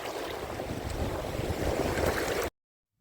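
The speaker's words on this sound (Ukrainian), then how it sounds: "Тому що сильний вітер і взагалі нічого не чутно." Strong wind buffets the microphone on a pier by the sea at Odesa, a steady rough roar blended with surf, running unbroken for a few seconds before cutting to silence.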